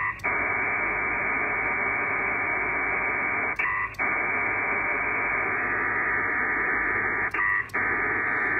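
Pactor modem data going out over an ICOM IC-7300 transceiver, a steady loud buzzing digital tone that runs almost without a break and is cut by two short gaps where the signal briefly changes.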